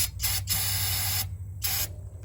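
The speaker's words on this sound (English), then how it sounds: "I got this carbon choke spray" Carbon and choke cleaner spray hissing into the carburetor of an old lawn mower that has sat unused for years, two long bursts separated by a short gap, loud and close over a low background hum.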